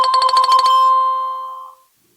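A live chat notification rings on a computer: a short, loud electronic chime of rapid repeated tones that rings out and fades away within about two seconds, heard alone.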